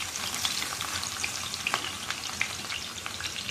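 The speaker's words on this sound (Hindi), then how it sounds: "दाल हमारी बन चुकी है, तो हम दाल में लगा लेते हैं बघार।" A tadka sizzles in a pot of cooked urad dal: dense, crackling frying with scattered sharp pops, close and steady throughout, with no voices.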